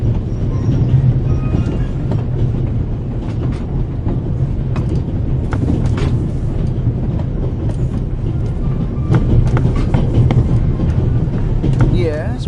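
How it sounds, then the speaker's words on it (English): Interior rumble of a moving Orient Express train, a steady loud low-pitched roar with faint rattles and clicks running continuously throughout, with speech occurring over it. "The noise on this train is driving me crazy."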